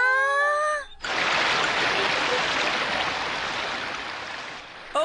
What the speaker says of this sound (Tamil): ஓ வாவ், இந்த ஃபால் சூப்பரா இருக்கு